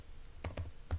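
Three quiet, crisp keystrokes tap on a computer keyboard in a short, uneven burst, faint and close with no voices.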